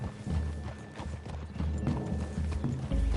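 Horses walk along in Red Dead Redemption 2, their hooves clip-clopping in an uneven rhythm at moderate volume, with soft background ambience.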